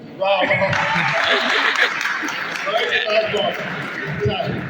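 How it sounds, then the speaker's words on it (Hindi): Audience applause and cheering at a Hindi poetry recital in a satsang hall, a steady crowd roar with mixed voices and some laughter sustained throughout. "तालियों से हौसला अफजाई करते रहो।"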